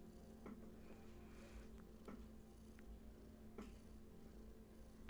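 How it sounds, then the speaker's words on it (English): A cat purrs close by in a quiet indoor space, a soft continuous rumble with gentle rhythmic pulses and no talking. "Yep, she's purring."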